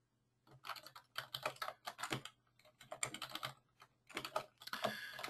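Rapid clattering keystrokes on a computer keyboard come in uneven bursts with short pauses between them, close and fairly loud, with a faint steady hum running underneath.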